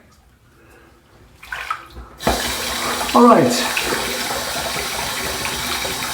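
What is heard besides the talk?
tap water running for a rinse after a head shave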